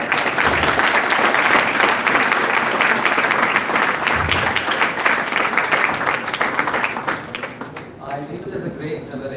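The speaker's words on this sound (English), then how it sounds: "Let us give a big round of applause." A room full of people at an MOU signing ceremony between Adarsh AIMIT and NASSCOM breaks into loud, sustained applause with crisp individual claps. The clapping fades near the end as a voice begins speaking.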